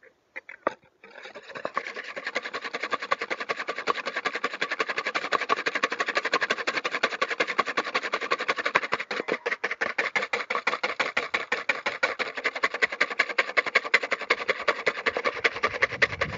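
Two eggs whisked by hand for fritter batter outdoors by a riverside, a fast, steady run of rhythmic scraping taps against the bowl that continues without a break, fairly close and moderately loud.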